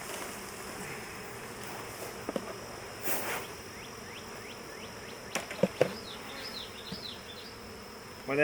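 Honey bees buzzing around a hive frame just shaken for a sugar-shake mite check, a dense close drone with individual bees whining past, plus a few knocks and clicks of handling.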